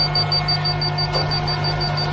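A laser level receiver beeps rapidly, evenly spaced high-pitched beeps about five times a second over a low electrical hum, while pouring a concrete garage floor.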